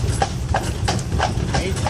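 Horse hooves clip-clopping on a road in Ireland, a quick run of evenly spaced hoof strikes heard close over a low engine-like rumble.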